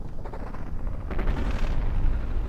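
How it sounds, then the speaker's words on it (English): Dense, continuous rumbling of battle explosions and gunfire between battleships in a video game, loud and sustained, with a heavier burst of blasts about halfway through. "More big explosions coming."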